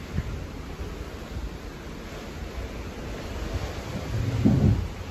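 Choppy ocean water washes and churns in a continuous broad rush, with wind buffeting the microphone and a brief low rumble near the end, heard up close from a moving boat.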